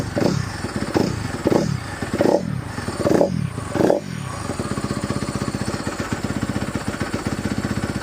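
A 2017 Honda CRF250R dirt bike, just restarted after sitting in storage, blipped a few times then settling into a steady, rapid, close-up idle with clattery mechanical rhythm.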